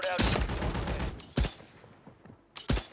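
Rapid gunfire in a first-person shooter video game, a sustained burst of shots followed by two short, sharp bursts, loud and close, with faint mechanical clicks between.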